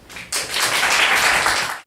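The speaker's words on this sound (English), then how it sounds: "please welcome Dr. Chris Weible with a round of applause" An audience at an academic policy conference applauds to welcome a speaker, a sudden dense burst of clapping that holds steady for over a second and then stops abruptly.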